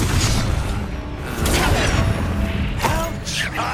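Confringo spell cast in Hogwarts Legacy, several booming blasts and whooshing bursts hitting in quick succession over a rumbling low background, loud and close.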